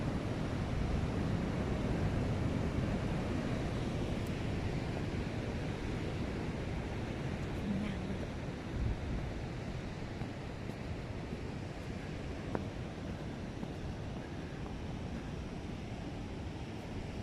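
Sea waves wash onto a shore in a continuous broad rush, steady and fairly close, with wind noise over the microphone and no voices.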